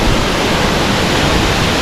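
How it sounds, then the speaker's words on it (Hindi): Waterfall cascading down from above beside the Amarnath Yatra mountain trail, a loud, steady broadband roar of rushing water filling the scene without a break, close by and with no voices. "और ये वाटरफॉल इधर से ऊपर से हो रहा है"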